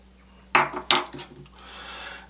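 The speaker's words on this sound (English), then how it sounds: "we're just going to stir this until the sugar dissolves somewhat" Milk and sugar stirred in a stand mixer bowl, two sharp clinking knocks of utensil against the bowl followed by softer scraping and a steady swishing stir, close and fairly quiet.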